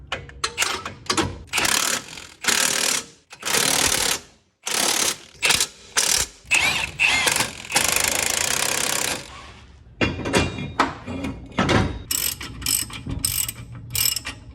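A ratchet wrench cranks down the Koni strut bolts on a 1999–2004 Mustang, with loud, close clicking bursts in repeated strokes separated by brief pauses, continuing across the whole stretch.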